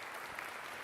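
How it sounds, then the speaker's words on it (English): Brief burst of audience clapping at an Independence Day celebration, a soft crowd patter of applause heard at a distance. "Clap it up for Independence Day."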